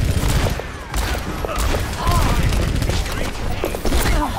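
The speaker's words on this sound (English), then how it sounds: "Sniper shots! Avoid open areas!" Dense, busy gunfire fills a match of the video game Overwatch, sharp cracks and bursts layered over constant game noise, loud and close, with some voices mixed in.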